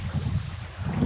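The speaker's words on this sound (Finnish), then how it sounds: "mutta edelleen tuuli" Wind blowing by Lake Inarijärvi in the wilderness, a steady low rumble and gusting buffet close to the microphone, broad and noisy throughout.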